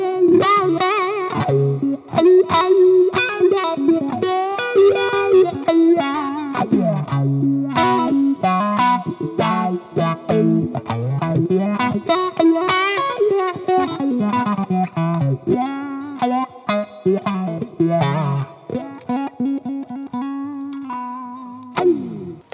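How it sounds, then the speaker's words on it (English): Electric guitar played through a Dunlop Cry Baby Custom Badass dual-inductor wah pedal on its dark inductor setting, with a distorted, throaty sweeping tone over a continuous run of riffs and chords. "now all the way down so you can see how dark this inductor goes"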